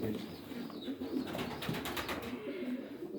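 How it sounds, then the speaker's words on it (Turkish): Pigeons in a breeder's loft full of nesting boxes with young birds, giving soft throaty coos that run steadily under a busy, noisy indoor background, with no talk. "Şöyle kuşlarımızı alıyoruz arkadaşlar."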